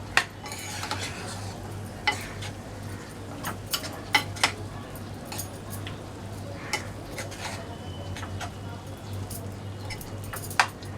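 Spoon stirring tomato bhaji with salt and coriander in a pan: steady close scraping with frequent light metallic taps against the pan, over a constant low hum of cooking.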